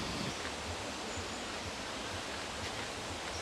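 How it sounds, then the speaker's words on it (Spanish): Waterfall pouring into a large natural pool beneath lush greenery near Río Claro, a steady, dense roar of rushing water, close and continuous without a break, no voices. "Ya estamos abajo de la cascada y la verdad que es impresionante el pozón de agua que hay"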